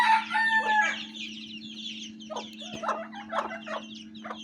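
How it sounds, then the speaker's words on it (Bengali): Native backyard chickens with chicks and two large roosters at night, a near crowing call at the start followed by repeated short clucks and calls, fairly quiet over a steady electrical hum. "বড় দুটি মোরগ।"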